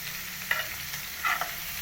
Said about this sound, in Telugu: జీడిపప్పు తీసుకున్నాం కదండి, ఇప్పుడు కరివేపాకు వేసుకుందాం.